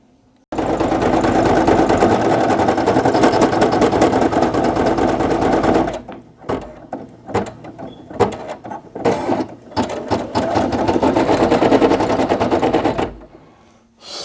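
A Brother PE800 embroidery machine stitches a patch with a loud, rapid mechanical chatter, running steadily, then stopping and starting in shorter bursts before a final long run.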